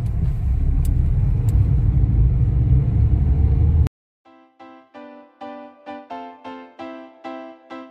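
Many cars at a busy fuel station selling cheap ethanol: a loud, steady engine and traffic rumble cuts off abruptly, followed by a regular series of tonal beeps.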